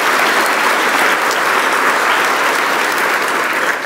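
A church congregation claps together in sustained, dense applause, loud and steady throughout with no break, filling the whole space.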